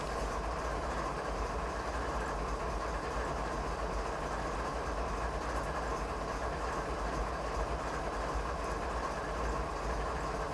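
A loaded CP Rail freight train rolls steadily downhill on a winter night near Field in Train Simulator 2019, giving a continuous loud rumble and rail noise with deep engine drone throughout, no voices over it.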